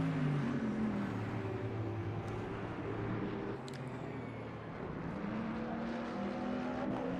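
LMP2 race cars in a racing video game at Fuji, engines droning steadily with shifting pitch as cars cross the finish line, a continuous close engine roar without talk.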